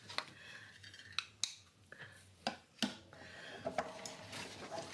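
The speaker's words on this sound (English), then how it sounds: "Let's cut this guy out." Scissors snip through paper ephemera with a series of crisp, close cuts and clicks, irregularly spaced and fairly quiet, set against a low background hum with no talking.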